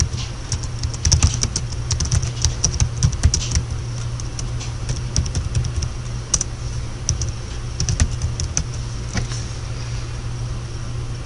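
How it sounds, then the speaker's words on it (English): Rapid, uneven clicking of keys on a computer keyboard as text is typed, close and continuous over a low steady hum, with no voices. "I'll just randomly type some text in it"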